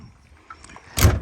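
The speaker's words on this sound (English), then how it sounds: "Close the door." An RV entry door with a replaced keypad lock is shut with a single loud, solid slam near the end, after a stretch of faint handling noise.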